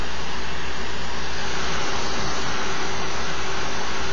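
A graphics card cooling fan spinning at full speed produces a loud, steady broadband whoosh with a constant hum underneath, its airflow slightly muffled when covered by a hand.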